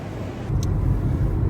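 Car interior on a city street, a steady low engine and road rumble that swells after a brief quieter start, with no talking.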